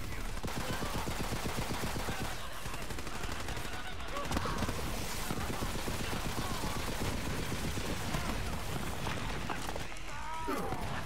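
Sustained, dense gunfire in the co-op shooter Borderlands 3, loud automatic bursts running the whole time, layered with game effects and voices talking over the action.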